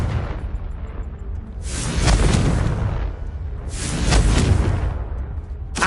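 Confringo blasting spells burst in Hogwarts Legacy: two deep booming explosions a couple of seconds apart, each swelling with a whooshing roar over a low rumbling game background.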